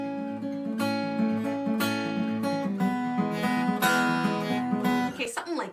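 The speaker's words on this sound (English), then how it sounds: "if you listen to this song, it's finger-picked in the beginning, which is a little bit tricky, and it does have a bar chord" Acoustic guitar finger-picking the opening of a song, a fast rolling pattern of plucked notes with a barre chord, close and clear, ending in a brief scrape of handling noise.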